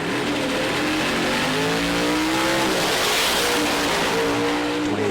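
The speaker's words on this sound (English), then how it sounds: "Dylan Voss, Wes DiStefano doing a burnout. Just a little teaser there" A Pro Stock drag race car does a burnout at a PDRA drag racing event, its engine a loud, sustained roar close by that holds steady for the whole stretch with no pause.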